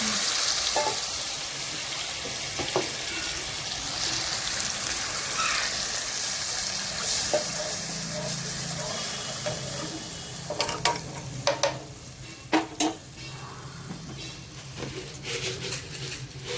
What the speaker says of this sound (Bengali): সেই অবশিষ্ট গ্রেভিটা দিয়ে দিচ্ছি কড়াইতে। বাকিটা দিয়ে একটু জল অ্যাড করছি।